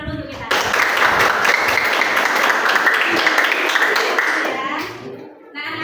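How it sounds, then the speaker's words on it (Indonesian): A class of children in a school open lesson claps together in a loud, close burst of applause that holds steady for several seconds before fading, with a voice rising briefly at the end. "Tepuk tangan dulu untuk kita"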